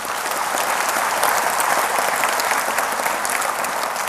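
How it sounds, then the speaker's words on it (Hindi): A large auditorium audience at a spiritual gathering in Siri Fort Auditorium claps vigorously, producing a thick, even wall of applause that holds steady and loud for the whole stretch without voices. "एक बार अपने लिए जरा जोरदार ताली बजाइए"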